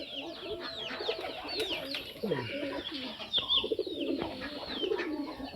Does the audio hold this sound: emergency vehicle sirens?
no